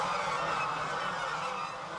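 A flock of a newly farmed goose breed, distinct from local domestic geese, honks in a continuous nasal chorus, close and fairly loud, with no talk over it.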